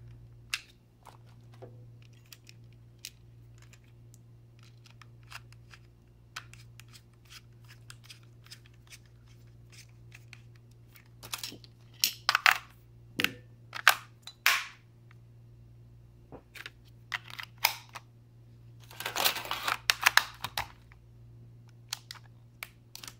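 Small screws being driven into a Game Boy Color shell during a backlight kit install, heard as sparse faint ticks and then clusters of sharp close clicks and scrapes over a low steady hum.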